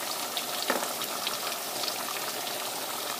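Onions and mixed colored peppers go into a pot for Haitian oxtail, raising a soft, even frying crackle with light stirring rustles throughout.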